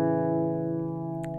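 An electric guitar played through EVH gear rings out a sustained, effects-laden chord from a riff, held steady and close with a slight fade.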